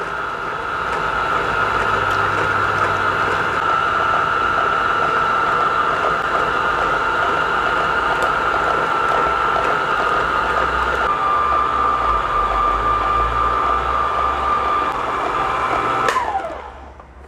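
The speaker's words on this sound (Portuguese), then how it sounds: "agora nós vamos adicionar os ovos, um a um, na velocidade baixa da nossa batedeira" A stand mixer runs steadily on low speed, beating eggs one at a time into cake batter, giving a loud, even motor whir with a constant tone that falls away as it switches off near the end.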